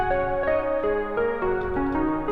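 A bubbly square-wave lead synth from the Ana 2 plugin plays a short stepping melody of sustained notes with a buzzy, harmonic-rich tone, loud and alone for a couple of seconds.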